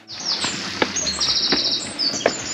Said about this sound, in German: Und im Hintergrund hat man richtig schön die Vöglein zwitschern.